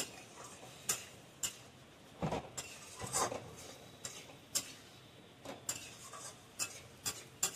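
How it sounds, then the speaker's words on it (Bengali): A spoon taps and scrapes against a metal pot while hilsa fish and kochu curry are stirred, with faint, irregular clinks at close range over a quiet background. "নাড়াচাড়া করে নেবো।"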